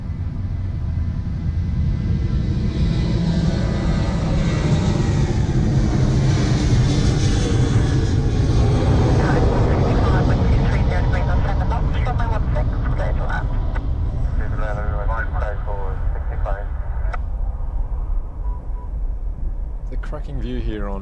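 A Thai Airways airliner arriving at Melbourne Airport, heard from airside near Taxiway Delta: a loud, steady broadband roar of jet engines lasting throughout, swelling mid-way, with people talking over it.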